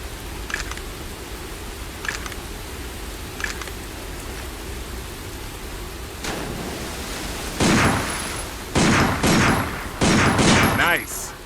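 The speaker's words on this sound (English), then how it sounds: "Take out your handgun and try shooting that sign." Handgun fired at a sign in the video game Binary Domain: a handful of sharp, loud reports around the end, some in quick pairs, over a steady low game backdrop with faint earlier clicks.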